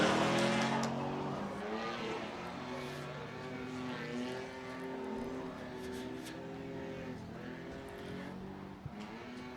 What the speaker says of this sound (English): We got Wagon versus Corvette